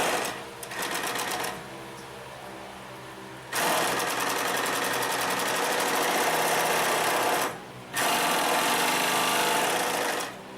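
A Consew 227R-2 industrial sewing machine stitches in two long bursts with a brief pause between them, a loud, steady, close-up whirring drone with a fast needle clatter and no speech.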